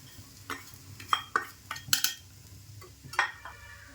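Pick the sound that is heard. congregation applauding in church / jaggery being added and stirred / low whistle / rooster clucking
jaggery being added and stirred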